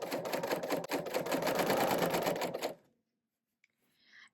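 Serger sewing machine stitching placemats, running in a fast steady close whir for nearly three seconds and then stopping, followed by near silence with a faint click.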